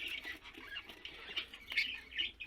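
A female budgerigar gives quiet, repeated squawks and chirps in short bursts, close but faint, with no talking over it.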